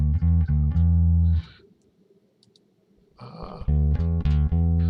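A bass guitar plays clean notes through an Axe Fx III SVT amp simulation with light input drive, giving deep sustained tones that stop for a short gap and then resume, loud and close.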